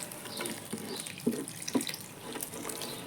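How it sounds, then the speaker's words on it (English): Water pours and splashes softly onto wild berry plants in pots, a faint, close trickle with a couple of brief droplet splashes amid quiet outdoor ambience. "So I'm going to just finish off by giving it some more water."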